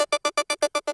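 Ableton Sencha Arp synth preset playing a fast, even arpeggio of nine bright, buzzy stacked-harmonic notes with short gaps between them, loud and alone.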